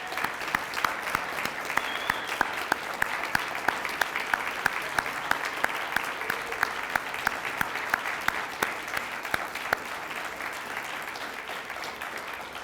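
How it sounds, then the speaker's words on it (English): A lecture audience applauds in honor of Ed Whalen, a sustained, dense patter of many hands clapping at steady volume for the whole stretch, with no speech over it. "So if you would, please just join me for 1 minute of applause to honor Ed Whalen."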